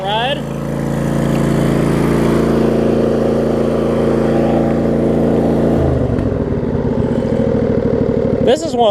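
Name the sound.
John Deere LX279 lawn tractor engine running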